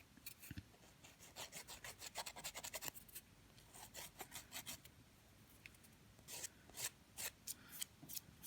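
A nail file rasps against the tip of an artificial nail in quick, close strokes, coming in rhythmic clusters with brief pauses between them.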